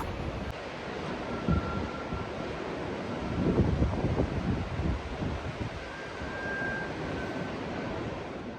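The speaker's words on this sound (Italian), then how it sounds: "c'è un po' di vento, un po' e dire poco" Strong wind roars steadily across the microphone, a constant close rumble with slightly heavier gusts midway, no other sounds standing out.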